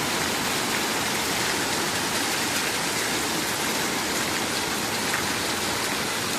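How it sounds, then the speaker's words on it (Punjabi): Dense, steady pattering of hail striking surfaces in a city at morning, a constant close roar with no gaps and no voices. "ਦੇਖੋ ਕਿੰਨਾ ਜ਼ਿਆਦਾ ਗੜੇ"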